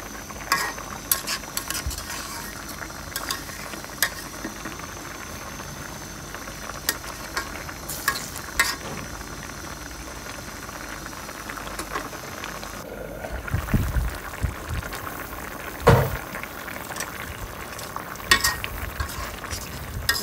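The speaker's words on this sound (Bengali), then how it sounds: "অনেকক্ষণ ধরে কষিয়ে নিচ্ছি, কারণ কাঁচা মাছ রান্না করলে একটু কষিয়ে নিতে হয় বেশি করে" Raw fish sautéing with spices in a pan, a steady sizzle with scraping and stirring clatter throughout, occasional louder knocks of the utensil against the pan, no talking.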